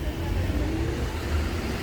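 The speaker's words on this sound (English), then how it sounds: "Very, very busy street." Steady road traffic on a very busy street at the edge of Marbella's old town in Spain, with a continuous low rumble of cars and buses passing close by and no clear gaps.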